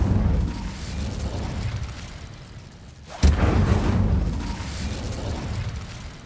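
Incendio fire spell in Hogwarts Legacy: a roaring whoosh of flame sits under game noise and fades out, then a sudden sharp burst flares up and keeps roaring.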